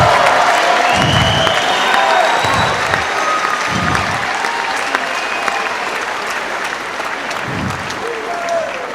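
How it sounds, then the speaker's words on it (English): Applause from a crowd at a boxing event, sustained steady clapping that stays loud and near throughout, with a few low thumps and faint background voices. "So let's give him another round of applause,"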